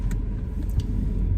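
A car rolls slowly straight back in reverse during a driving test, a steady close low engine rumble with faint light ticks and no talk.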